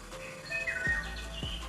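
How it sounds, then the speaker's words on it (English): Forest birds chirp from a relaxing sounds phone app, a few short whistled tweets and a sweeping call over a soft background, close and clear with no voices. "maybe the sound of rain with birds chirping in a forest or any other combinations"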